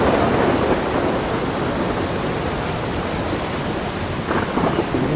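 A waterfall in the video game Far Cry Primal roars as a steady, dense wash of rushing water, constant and unbroken throughout with no voices over it.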